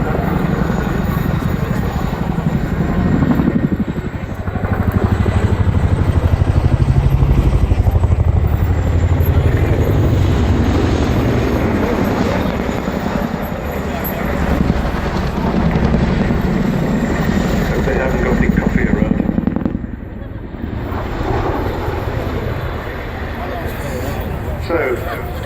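A tandem-rotor helicopter flies at the Cosford air show, its loud, continuous rotor roar and throb filling the air, easing briefly near the end before building again.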